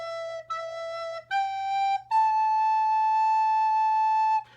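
A single melodic instrument plays a short phrase of four sustained notes, two repeated lower tones then two rising ones, the last held long, clean and solo with a faint steady hum beneath.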